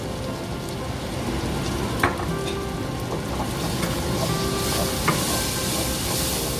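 Tomato and masala paste with turmeric fries in a pan for a South Indian crab masala, a steady dense sizzle with occasional stirring clicks, close and continuous.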